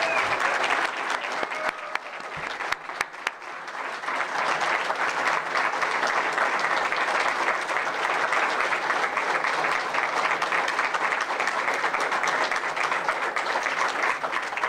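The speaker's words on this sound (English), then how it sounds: "Let's welcome Johnny to the podium." Sustained audience applause at a men's basketball coach's introductory press conference, dense clapping from a crowd building after a moment and continuing steadily and loudly throughout.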